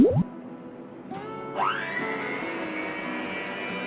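A Mito MX 200 hand mixer is switched on at its first speed. A brief click and clatter come first, then the motor spins up with a rising whine and settles into a smooth, steady hum close by.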